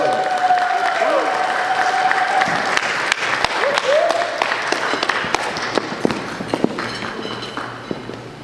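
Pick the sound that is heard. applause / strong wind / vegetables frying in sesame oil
applause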